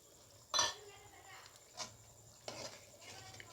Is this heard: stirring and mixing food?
yes